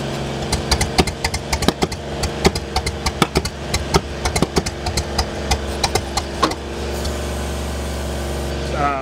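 Ford 8N tractor with a flathead engine running unevenly, sharp irregular pops and firing pulses close by before it drops to a steady low hum.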